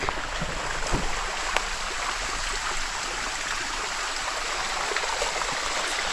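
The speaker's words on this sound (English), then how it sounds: "At the North Fork of Fall Creek." Flowing creek water on the North Fork of Fall Creek, a steady close rushing and babbling wash that carries on alone with no talk.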